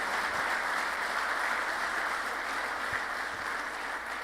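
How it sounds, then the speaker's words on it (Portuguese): Steady applause from a church congregation during a sermon, a dense continuous wash of clapping that holds evenly throughout with no talk over it. "Dê um aplauso para Jesus."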